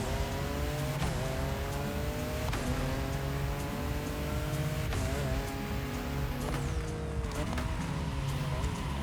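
Car in the racing video game The Crew Motorfest sliding and skidding, a steady engine drone with several rising and falling whines and squeals spaced a few seconds apart, loud and continuous.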